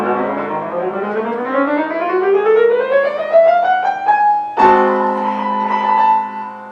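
A single melodic line climbs steadily through a chromatic rise in a Beethoven cadenza and lands on a held chord, loud and close with no talking.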